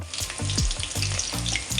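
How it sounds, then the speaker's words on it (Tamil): Sliced datura fruit sizzles and bubbles in hot oil, a loud, close, continuous frying crackle with soft stirring pulses through it. "அரிஞ்சு ஒரு ரெண்டு மூணு நிமிஷத்துலேயே எண்ணெயில் போட்டுடணும் பாருங்கள் நல்லா கொதிக்குது"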